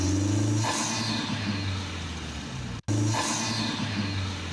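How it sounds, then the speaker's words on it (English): A Honda Civic Si with a PRL air intake hums steadily while a hissing turbo whoosh sweeps over it twice, separated by a brief cut; moderately loud and close, with no speech. "Now check out this turbo sound."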